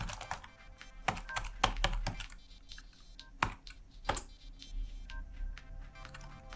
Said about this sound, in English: I'm typing Blagoevgrad because this is the home location which the application currently got for us.